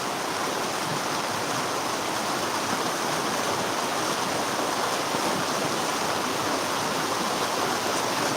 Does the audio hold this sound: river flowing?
yes